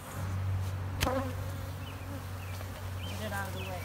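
Honeybees buzzing around a nucleus colony box outdoors on a warm sunny day, a dense steady hum with individual bees droning past close by, rising and fading in pitch.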